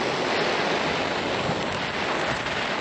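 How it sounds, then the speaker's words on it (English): Wind blowing steadily across an open field where a controlled burn is being lit, a broad continuous roar close to the microphone with no pauses for the whole stretch. "the wind just changed direction 3 times"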